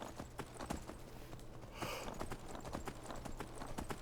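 Steady clip-clop of horse hooves at a riding pace in the Skyrim video game, with a brief swell of wind-like noise partway through and no talk.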